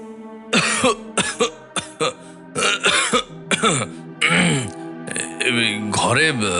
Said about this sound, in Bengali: ধুলার জন্য তিনি কাশতে লাগলেন